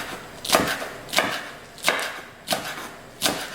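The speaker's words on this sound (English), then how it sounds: "I'm just going to chop them up into circles like so" A kitchen knife slices onions into rings on a cutting board, giving five sharp, evenly spaced chops about two-thirds of a second apart, close up with nothing else around them.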